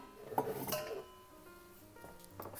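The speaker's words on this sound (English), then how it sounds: "I'm gonna change the beater" Metal clinks and clatters as the beater attachment on a stand mixer is swapped while making Polish babka, a few close, brief metallic knocks spread over a couple of seconds.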